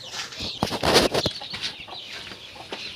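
Chickens cluck and squawk in short bursts nearby, a few sharp calls over a rustling, busy background.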